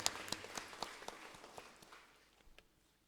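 Scattered clapping from a congregation at a priestly ordination anniversary Mass, a few sharp claps early that thin out and fade within a few seconds, fairly quiet and without speech.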